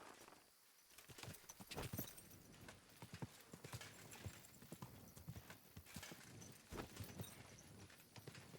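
Horse hooves clip-clop in a quick, uneven rhythm in the video game Kingdom Come: Deliverance II, close and fairly loud, with a short pause early on and steady trotting afterward.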